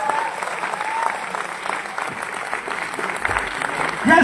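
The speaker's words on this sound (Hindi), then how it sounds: "जोरदार तालियां होनी चाहिए प्रशांत जी के लिए" A seminar audience in Delhi claps loudly and steadily, dense applause filling the room, with a few voices rising over it near the end.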